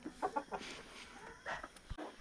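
Chickens in adjoining pens clucking nearby: a run of short, quick clucks in uneven bursts with brief pauses, fairly quiet and without talk.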